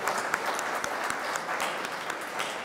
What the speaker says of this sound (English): If we could please have a round of applause for Mr. Bobby Tomelko and the World Macedonian Congress